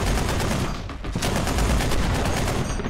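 Sustained rapid gunfire fills a video game firefight, dense overlapping automatic bursts with a brief dip partway through, loud and continuous with no voices.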